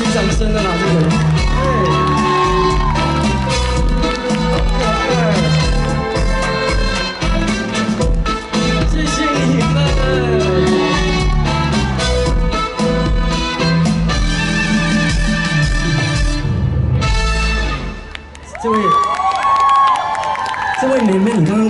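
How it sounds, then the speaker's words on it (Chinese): A year-end outdoor concert crowd at Taipei 101's Water Dance Plaza cheers and applauds loudly and continuously, dense and near, with whoops and shouts over lingering music, dipping briefly before surging again. "给自己掌声了啦，这个人"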